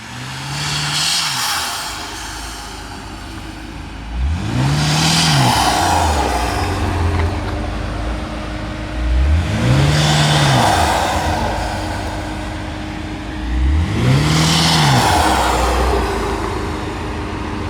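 A BMW F90 M5 Competition with front mount intakes and a heavily modified build revs four times in a row, each pull rising and falling in a deep, loud swell with a brief idle between.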